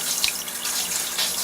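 Steady rushing water flowing through the lines of a tankless water heater during winterizing, a close, continuous hiss with no speech.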